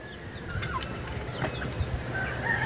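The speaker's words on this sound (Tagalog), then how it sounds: "Ayan po yung ating mga Polish chicken" Polish chickens in a backyard, with soft clucks and a brief flutter of wings over a steady outdoor background hum.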